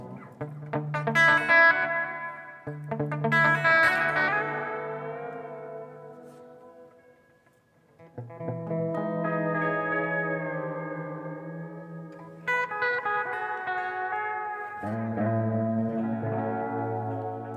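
Clean electric guitar phrases ring out through a Mr. Black-designed delay pedal, each chord or note line trailing into repeating echoes with a shimmering, slightly chorused tail; no talking.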